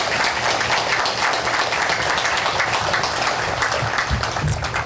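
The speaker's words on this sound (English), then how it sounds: "Let's give them a round of applause." An audience at a memorial service applauds steadily for a performing arts group of singers and their director, a dense, even wash of clapping that holds at one level for several seconds.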